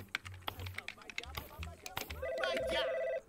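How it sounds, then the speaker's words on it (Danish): Telephone ringing in the VR video game Budget Cuts, an electronic trilling ring that comes in toward the end over busy clicking and handling sounds, fairly close, with a voice talking earlier. "Så, nu ringer telefonen."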